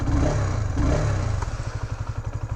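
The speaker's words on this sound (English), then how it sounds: "you just click it and it starts up the engine" A motorcycle's electric starter cranks with a grinding clatter, then the engine catches and settles into a quick, even idle thump, close and loud, with no voices.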